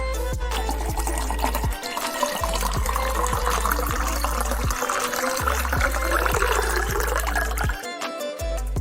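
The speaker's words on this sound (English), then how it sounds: "Time to put the sand in the tub and fill her up." Water pours steadily into a tub of sand for a rinse, a continuous rushing fill that stays loud and even throughout with only brief dips.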